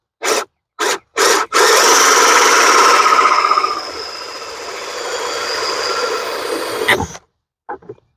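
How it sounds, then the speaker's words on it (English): Three short bursts from a power drill, then a long grinding whine as the bit bores through a plastic panel on a Honda Ruckus scooter, tapering off before stopping; a few faint clicks follow. "Drilling a hole in this panel."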